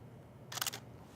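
A DSLR camera shutter fires in a quick burst of several clicks, each crisp and close, set against a faint hum of room noise.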